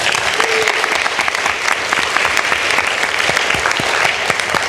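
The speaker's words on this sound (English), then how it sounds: "one more collective round of applause for our 5 candidates" An audience at a Massachusetts gubernatorial forum on community colleges applauds steadily, a dense, even wash of many hands clapping at close range with no break.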